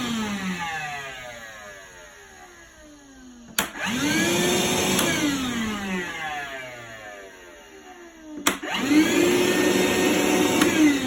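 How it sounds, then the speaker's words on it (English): A battery-powered vacuum runs on a taped-up cardboard box, droning steadily and close. Its whine bends in pitch as the box is sucked in, and two sharp clicks mark where the motor is switched or restarted. "You can see when you turn the vacuum on whether or not it will hold a vacuum."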